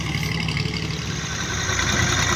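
A tractor loaded with wheat rumbles past on a road, its engine a steady mid-low drone, fairly close and constant without speech.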